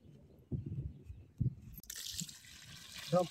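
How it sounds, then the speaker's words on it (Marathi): Water splashes and rushes over goat tripe as it is rinsed clean, a steady wet hiss that starts partway through after some low murmuring voices, with a short tonal clink near the end. "जरा वजरीचं धुवून घे की"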